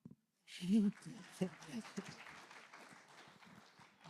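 Brief burst of audience applause at a brand story panel during a live business event, rising quickly then thinning out under ongoing talk and crowd murmur.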